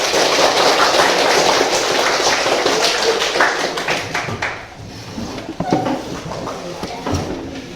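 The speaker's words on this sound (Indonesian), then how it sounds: "Tepuk tangan untuk kita" A group of people clap their hands together after a classroom action game, a dense burst of claps that gradually thins and fades over several seconds.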